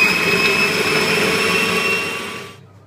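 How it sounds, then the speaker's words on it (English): A food processor blitzes mackerel with parsley for pâté, a loud steady motor whir with a high whine that holds and then winds down and stops near the end. "Well, I've blitzed up the mackerel anyway."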